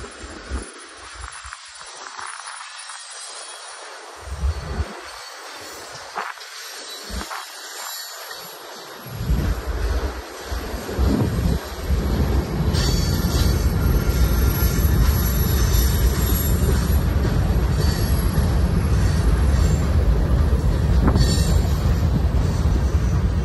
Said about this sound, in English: BNSF ethanol train coming up the left side here.